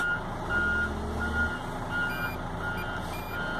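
A eucalyptus log-hauling machine manoeuvring at a pulp mill sounds steady, evenly spaced reversing beeps over a low diesel engine rumble that surges briefly, with no talking.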